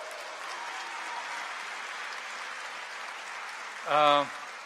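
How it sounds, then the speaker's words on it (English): Applause from an audience at a university white coat ceremony, steady moderate clapping throughout, with a short voiced exclamation or cheer near the end. "I'd like a round of applause"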